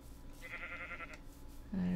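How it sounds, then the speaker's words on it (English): A sheep bleats in a blocky fantasy video game, a single wavering bleat of about a second at moderate loudness, followed by a low voice starting to speak. "There's a sheep."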